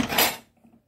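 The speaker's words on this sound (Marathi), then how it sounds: "कुकर लावून घेणार आहे मी." A metal pressure cooker is set on a kitchen stove for cooking rice, giving a single short metallic clank and scrape followed by a faint small tap as it settles.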